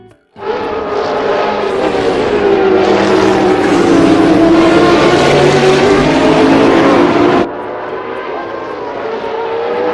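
A toy sports car gives off a loud, steady electronic engine roar that rises and holds for several seconds before dropping to a lower hum, close by and with no voices.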